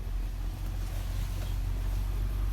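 An Infiniti QX80 with a 5.6 V8 engine running on LPG idles with a steady, smooth low rumble that stays even and close throughout.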